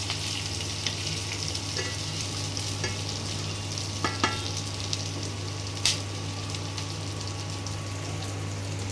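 Onion and whole spices frying in a pan for a restaurant-style kadai chicken masala, a steady close sizzle with a few scraping stirs and clinks over a constant low hum.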